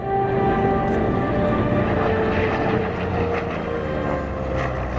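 WWII fighter planes, a Corsair and a Japanese Zero, fly at an airshow, giving a loud, continuous propeller-engine drone with a steady tonal hum that swells slightly and stays constant over a few seconds.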